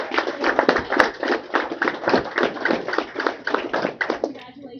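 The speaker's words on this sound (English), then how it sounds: "So if we could give them all a round of applause" Audience at a school board meeting applauding third graders, a brisk run of close, quick claps lasting several seconds before trailing off.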